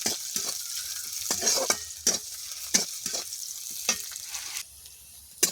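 Onions frying in a pan for a Bengali village vegetable curry with red amaranth greens and prawns, a steady close sizzle broken by repeated scraping stirs, about eight strokes at an uneven rhythm.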